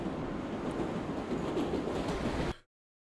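A New York subway train in World of Subways 4 rumbles steadily along the track with a low continuous roar and faint rail clatter, then cuts to silence.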